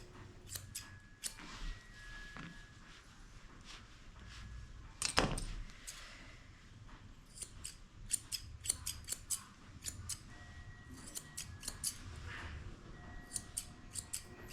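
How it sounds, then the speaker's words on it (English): Repeated crisp snips of curved grooming scissors cutting a senior poodle's hair, in irregular bursts, close by, with a brief louder rustle midway and no talking. "you really need to get some curved scissors"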